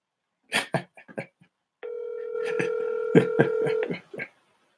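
A telephone call to a city council member's office opens with a few quick clicks. A steady, close tone follows for about two seconds, and dialing beeps are punched in over it.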